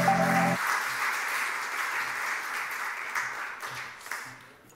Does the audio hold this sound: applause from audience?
yes